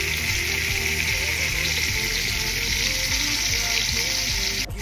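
Salt and turmeric hit a frying pan of papaya cooking with koi and small fish, giving a steady, close sizzle over background music.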